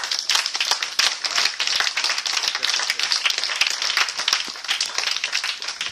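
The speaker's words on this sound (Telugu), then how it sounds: "గట్టిగా చప్పట్లు కొట్టండి అందరూ" A crowd at a charity water-well project event in India claps loudly and steadily, a dense sustained round of applause with no talk over it.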